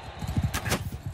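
A horse galloping in the medieval battle game Mount & Blade II Bannerlord, quick rhythmic hoof thuds close by, with a couple of sharp clashing bursts over them.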